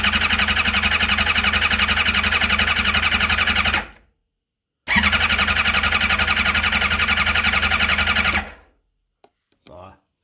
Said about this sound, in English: So I'm not just cranking, and it fires on a unprimed motor.